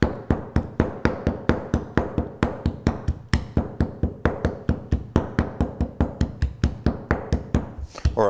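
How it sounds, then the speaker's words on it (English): A hammer pounds green cabbage leaves to bruise them for a poultice, about three steady strikes per second, close and loud, with no talk over it. "Well, you can take a hammer,"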